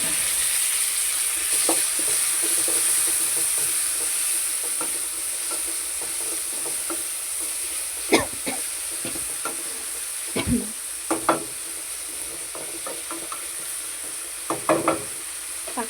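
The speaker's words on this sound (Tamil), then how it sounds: "தக்காளி வதங்கட்டும்." Chopped tomatoes sautéing in oil with onions in a pan, a steady hiss of frying close by, with scattered knocks and scrapes of a spoon stirring in the second half.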